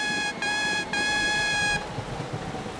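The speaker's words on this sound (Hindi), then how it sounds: "मैं अपना हॉर्न बजाता हूँ" A loud, steady harmonic horn blast sounds twice, brief break between, then a longer sustained toot before it cuts off to background noise.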